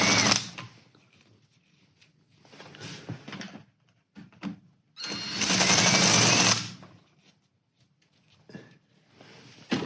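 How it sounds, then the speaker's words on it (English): A drill spins a large bit as a chamfer tool on a bolt hole in a motorcycle part, sounding in short whirring bursts separated by quiet gaps, the longest burst near the middle, close and moderately loud. "So let me grab one of these bigger bits, use it as a chamfer tool"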